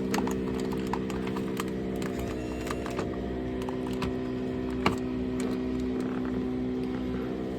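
A Volvo Penta 4.3 marine engine with failed sound-shield foam runs at a steady idle, a continuous close drone with a constant low hum and faint clicking on top, and no talk.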